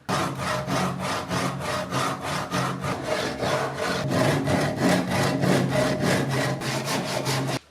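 A handsaw cuts through a wooden cup, trimming it to its final height. The strokes are steady and rhythmic, about two per second, close and loud, and they run continuously with no talking.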